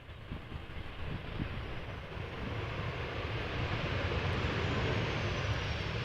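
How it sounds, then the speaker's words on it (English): A Norwegian Boeing 737-800 airliner arriving at Amsterdam Schiphol Airport makes a broad, rushing jet roar that builds gradually and stays loud at a distance. "Next up is Norwegian, a 737-800 arriving from Copenhagen."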